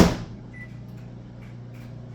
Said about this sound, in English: this microwave has a 10-second timer, a 10-second button, which is different